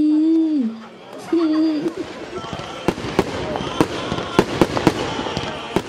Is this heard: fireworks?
yes